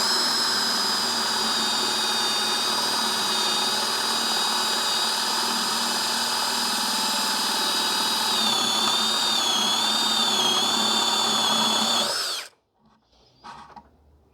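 A Hanabi 16V cordless drill runs at speed 2 with a loud, steady, high whine for about twelve seconds, the pitch wavering slightly near the end before the motor cuts off abruptly, leaving a few faint knocks.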